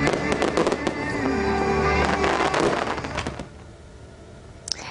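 Dense fireworks display in Japan, a continuous barrage of bursts and crackles at close range filling the first few seconds, then thinning out with a single sharp pop near the end.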